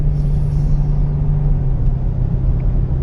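A GMT800 Suburban 2500 drives along with a steady, loud low engine and road rumble; its transmission shifts firmly but smoothly, leaving only a subtle change in the drone.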